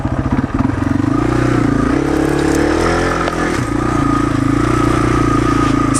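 A Yamaha TW200 motorcycle climbs a hill in second gear, its single-cylinder engine thumping loud and close with a steady, pulsing chug and a brief dip mid-climb.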